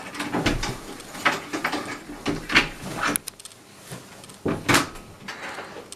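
A door being opened during a staged indoor scene, heard as several loud, broad clunks and knocks spread across the stretch with short pauses between them, close by and with no talk over them.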